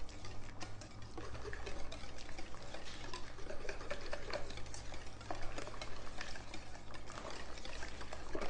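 Jello salad mixture being whisked in a bowl, a soft continuous rapid ticking and swishing at low volume with a faint steady hum underneath.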